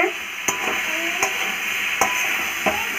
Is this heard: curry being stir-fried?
yes